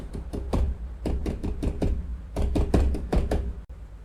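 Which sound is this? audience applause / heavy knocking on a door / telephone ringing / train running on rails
heavy knocking on a door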